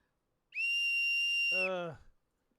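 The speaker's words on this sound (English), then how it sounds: "It's a whistle." A toy whistle blown once: a loud, shrill, steady tone held for about a second, then sliding into a lower, buzzier note before stopping.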